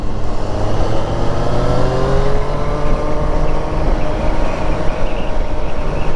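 A Triumph Street Triple 765 RS from 2024 decelerates with the throttle closed, giving a steady, loud, rough engine drone that slowly drops in pitch, heard from close by during a ride.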